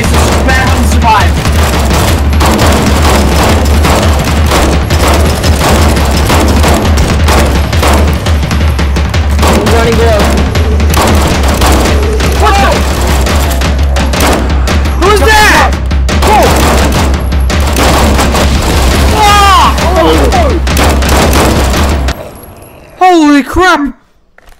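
Sustained, dense gunfire in Garry's Mod, rapid clattering shots and bursts over a constant low drone, loud and nearly nonstop before cutting off near the end, with voices shouting underneath.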